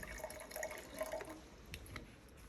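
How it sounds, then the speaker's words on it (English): Vinegar poured into a beaker holding baking soda, a soft trickling and fizzing liquid sound, faint and close, continuous throughout with no talk. "pour another bit of vinegar into the same beaker"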